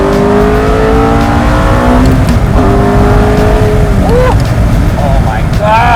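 A gated manual Ferrari accelerates hard, its engine note rising in steady harmonic sweeps and climbing through the revs, loud and close throughout, with voices audible briefly near the end.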